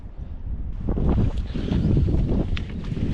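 Wind gusts across a lake around a fishing boat in cold, autumn-like spring weather, a steady rushing buffet with louder surges and rumbling microphone wind, alone with no talk.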